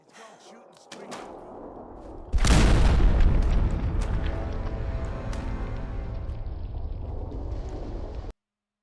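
A single heavy boom from a sniper rifle shot in Fallout 4, loud and close, then a long rumbling tail with some low talk before it.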